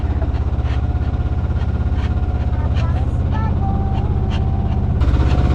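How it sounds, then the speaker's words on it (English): A loud boat engine drones steadily throughout, a constant low rumbling hum close by, with faint voices over it. "Our engine is louder than anybody else's."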